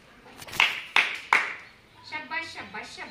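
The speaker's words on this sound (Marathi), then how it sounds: "त्यानंतर चौथी टाळी घेणार आहोत आपण, शाबासकीची टाळी।" Praise clapping, the fourth type of clap taught in a children's activity: three sharp, loud claps in a slow, even rhythm, then a person speaking.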